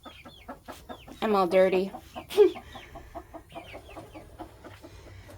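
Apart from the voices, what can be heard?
rooster and hens clucking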